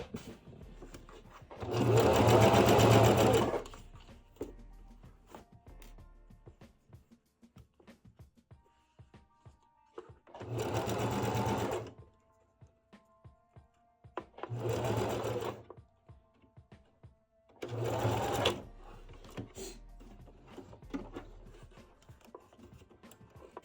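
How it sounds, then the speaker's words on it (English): A domestic sewing machine stitching a straight quarter-inch seam on a fabric zipper pouch, running in four separate bursts of whirring stitching, the first longest, with quiet pauses between them and no talking. "we're just going to be sewing, okay, with the 1/4 inch seam allowance, and it's just going to be a straight line"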